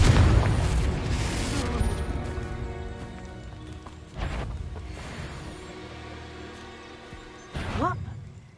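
In the Hogwarts Legacy video game, the Confringo blasting spell sets off heavy booms with whooshing tails: a loud blast at the start, then two more explosions further along, among game effects.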